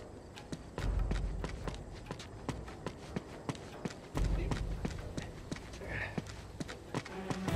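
Horse hooves clip-clop at a steady walking rhythm in Uncharted, a run of crisp, moderately close taps on hard ground alongside low rumbling game noise and occasional speech.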